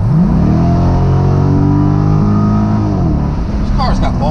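A mid-engine Chevrolet Corvette C8.R race car engine revs loud and close, its pitch climbing and holding a steady roar before dropping away, with voices faintly over the engine near the end.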